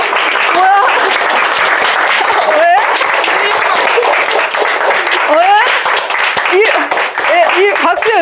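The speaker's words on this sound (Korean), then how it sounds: "이 박수의 의미가 뭐야?" Students clap together in a lecture hall during a Korean biology exam-prep session. The applause is steady and loud and runs for about eight seconds, with some talk mixed in.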